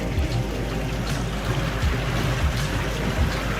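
A Highfield 860 RIB moves slowly at two or three knots, with a steady low engine and hull rumble, water sloshing and wind noise filling the clip continuously at close range.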